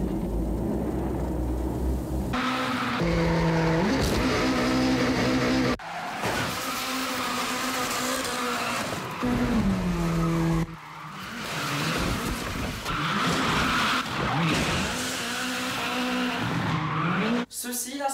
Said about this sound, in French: Ceci là, ça s'appelle un gymkhana.